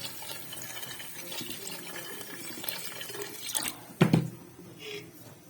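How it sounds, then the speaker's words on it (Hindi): Water being poured into spiced minced meat mixed with salt, chilies and whole coriander for shami kabab, a short splashing pour late in the clip over faint background noise. "तो इसमें पानी डालते हैं"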